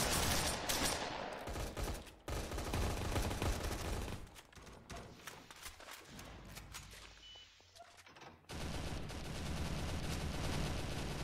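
Sustained bursts of MPX submachine gun fire in a Roblox SCP roleplay game, loud, dense rapid volleys that drop briefly around the middle and then resume at full intensity, with no talking.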